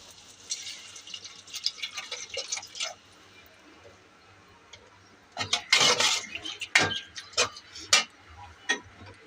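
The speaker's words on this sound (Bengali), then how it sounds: "একটু সামান্য পানি দেব।" A little water goes into a pan of frying green chilli and ginger-garlic paste, bringing bursts of sizzling and spattering after a quieter stretch of faint crackling.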